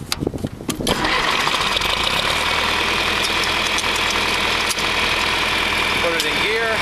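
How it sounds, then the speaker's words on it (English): A farm tractor engine cranks briefly, then catches and settles into a steady, loud, close idle, with a voice audible near the start. "let's turn the tractor on here"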